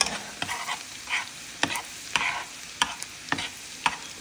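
Onion and garlic sautéing in a pan for homemade chicken pastel: a close, continuous sizzle broken by regular sharp scrapes and knocks of a spoon stirring, roughly twice a second.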